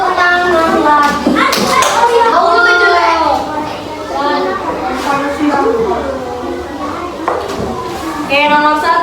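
Children in a classroom clap their hands in repeated bursts, mixed with lively, loud children's voices and chatter throughout.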